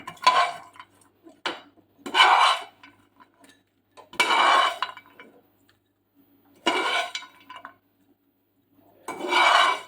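Fried makhana, or lotus seeds, scraped and spooned from a pan into a bowl, giving several spaced bursts of scraping and clinking utensil sounds separated by near silence.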